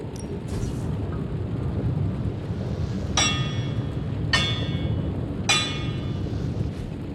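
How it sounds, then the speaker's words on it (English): Metal hammering in the video game Marvel's Midnight Suns: three sharp, bright clanging strikes spaced about a second apart, ringing over a steady low rumbling background. "Just gonna hammer stuff and see how it goes."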